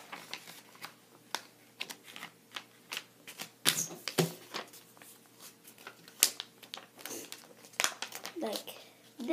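Thick paper is creased and folded into a paper airplane, giving crisp close crinkles and sharp rustling snaps in irregular bursts, with quieter handling noise between them.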